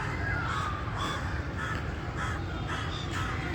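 Several crows caw outdoors in a steady, overlapping series of harsh calls, fairly close and loud over constant background noise, with no talking.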